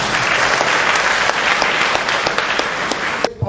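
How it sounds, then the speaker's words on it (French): An audience claps steadily and loudly for about three seconds at a talk on turning daily spending into income, the dense applause cutting off abruptly at the end. "Applaudissez pour vous"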